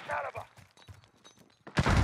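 Rapid P90 submachine gun fire in a video game, a loud burst at the end after quieter stretches of background noise and faint talk.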